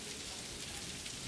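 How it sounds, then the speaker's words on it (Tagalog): Steady rain falls around a group visiting Pico del Oro by yacht, a dense, even hiss of drops on surfaces that stays constant throughout with no clear voices. "Ulan."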